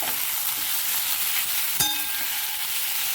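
A paste of fresh coconut, ginger and garlic is sautéed for mix bhaji, giving a steady close sizzle and frying hiss with a brief clink of a utensil partway through.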